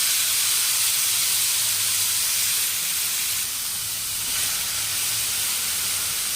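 Two tomatoes sautéing with onions in a pan for a chapati gravy, heard as an even, continuous hissing sizzle that barely changes over several seconds, with no talking.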